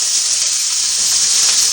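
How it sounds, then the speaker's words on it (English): Loud, steady sizzling of shrimp, diced pepper and green beans frying in a hot pan, a continuous bright hiss with no pauses and no voices. "That's the sizzle I want."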